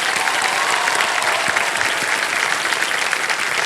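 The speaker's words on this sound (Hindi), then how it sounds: "एक बार फिर जोरदार तालियां बज जाए इनके लिए" Studio audience on the Indian quiz show KBC breaks into loud, dense applause, a close and continuous wall of clapping filling the whole stretch without any voice above it.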